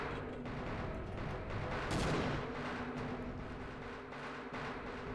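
Grenade explosions in the shooter game Half-Life, a loud blast standing out around the middle of a steady, fairly quiet stretch of rumbling combat noise.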